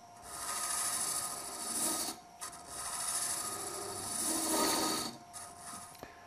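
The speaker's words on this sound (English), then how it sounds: "Approach the wood slowly and start to cut," A Robert Sorby Ultima hollowing tool cuts into turning wood, giving a steady, fairly close scraping hiss in two long passes separated by brief pauses, with no talk.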